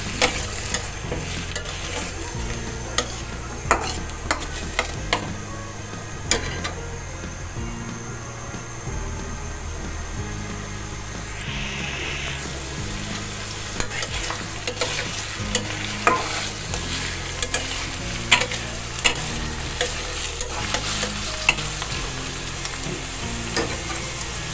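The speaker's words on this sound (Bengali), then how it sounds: "দিয়ে দিচ্ছি পেঁয়াজটাকে বাদামি করে ভেজে নেব।" Onions frying in oil until brown, a continuous dense sizzle with frequent sharp spoon scrapes and taps against the pan as they are stirred, close and steady throughout.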